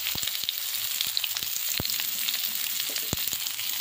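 Vegetable stems hit a hot pan for a Bengali fish curry, setting off a busy close sizzle with sharp crackling pops scattered throughout and no voices.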